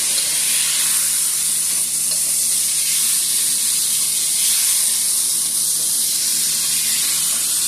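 Beef cubes with tomatoes and yellow peppers sizzle in a hot pan, a steady, bright hiss of frying that holds evenly and loudly from start to finish with no talk.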